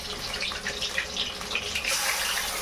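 Pumpkin flower fritters sizzle in hot oil in a pan, a steady dense crackling hiss with small popping bursts throughout, close and fairly loud, no talking.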